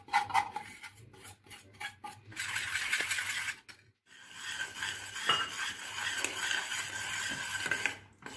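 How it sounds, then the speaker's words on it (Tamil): Besan batter being poured into hot ghee and stirred for Mysore pak, with metallic spoon clinks and scraping against the pan in quick bursts, then a steady close sizzle and stirring; no talking. "இப்போ இந்த நெய்யில் கலக்கி வச்சது ஊற்றி கிண்டிக்கணும்."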